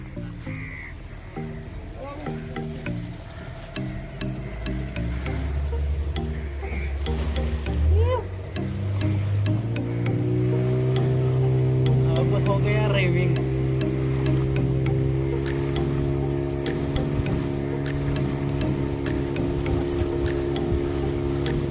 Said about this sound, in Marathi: एका बाजूचं इंजिन चालू केलं.